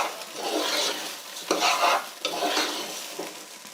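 Rice and lentils being fried and stirred in a pan for chicken khichuri, with steady sizzling broken by several scraping stir strokes, close and fairly quiet, no talk.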